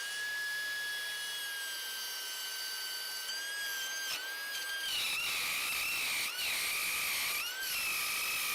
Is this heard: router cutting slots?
yes